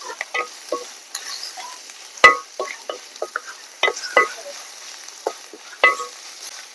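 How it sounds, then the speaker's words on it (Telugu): Onions and ginger garlic paste frying in a pan for a dry fish and cucumber curry, with rapid crackling pops and sharp spatula scrapes over quiet background, close up and no speech. "ఆ ఉల్లిపాయలు బాగా దోరగా వేయటాక ఇది కూడా అల్లం వెల్లుల్లి పేస్ట్ కూడా దోరగా వేగిపోతుంది దాంట్లో"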